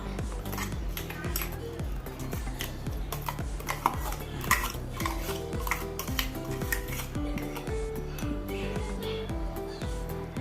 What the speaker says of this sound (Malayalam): ഇനി അരച്ചു കൊണ്ടുവന്ന തേങ്ങ ഒരു ബൗളിലേക്ക് മാറ്റാം